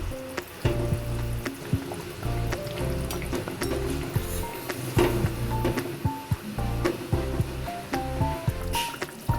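Fish pieces are dropped into a simmering curry of bori and potatoes, giving soft wet plops, splashes and bubbling at close range in a quiet kitchen.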